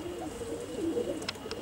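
Saharanpuri pigeons coo softly in a loft of about fifteen birds, low murmuring calls running steadily throughout, with a few brief higher chirps near the end.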